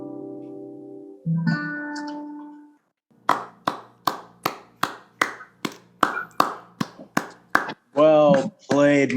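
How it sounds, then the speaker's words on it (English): Sparse, slow clapping after a song, about a dozen distinct evenly spaced claps, close and crisp, as if from a single person, following a sustained musical tone and ending with a voice speaking. "Thank you for the applause."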